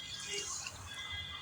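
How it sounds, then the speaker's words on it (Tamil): Tamarind extract poured into a simmering sundakkai curry, a soft, close trickle of liquid, faint and steady for a brief moment. "இப்போ புளி கரைசல் கொஞ்சம் ஊற்ற போகிறேன்."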